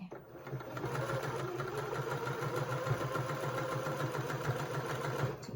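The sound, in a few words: sewing machine stitching along the edge of a scarf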